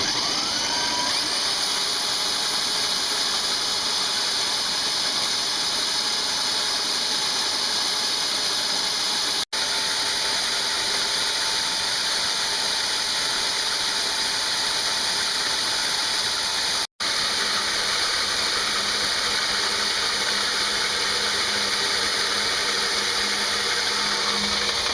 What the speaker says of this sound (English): it's grinding the grain